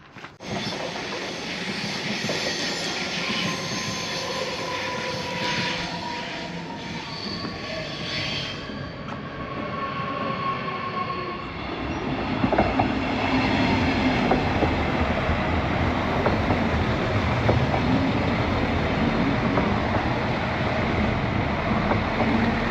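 A train rolls through a German railway station, a steady rumbling roar with faint wheel squeal, growing louder and fuller about halfway through as it passes close by.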